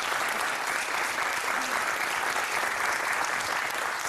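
A TV studio audience applauds steadily and evenly for about four seconds, a dense, sustained wash of clapping with no talk over it.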